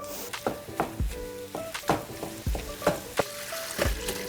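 Potatoes sizzling in a hot pan, a steady frying hiss broken by repeated scraping and clattering knocks as they are stirred.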